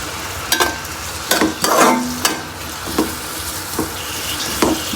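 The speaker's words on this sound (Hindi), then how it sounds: "अब हमने अपने प्याज को कलर चेंज होने तक हमने इसको फ्राई करना है।" Onions fry in hot oil in a pan with a steady low sizzle, while a spoon stirs and scrapes against the metal in several sharp, irregular knocks, close and clear.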